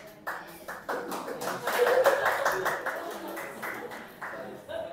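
A church congregation claps in a brief, uneven burst of many hands, moderately close, swelling in the middle and then thinning out.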